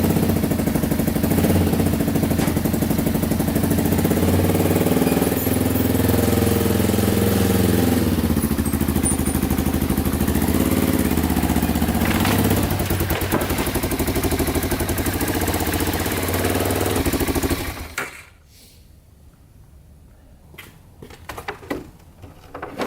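A Can-Am DS 650 quad runs loud and close on a ride, its engine droning steadily and rising and falling with throttle for most of the stretch, then cutting out to near silence with faint rustles.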